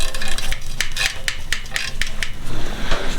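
Metallic tapping while valve clearance is set on a Rolls Royce cylinder head for a replica WW1 tank engine, a run of about seven sharp, evenly spaced taps over a continuous background rumble.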